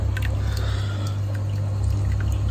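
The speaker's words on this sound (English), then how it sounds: "You can see I've got a nice steady overflow coming through into my filter sock there." Water spills steadily from an aquarium overflow into a filter sock in the sump, a close, continuous pouring and splashing over a low mechanical hum.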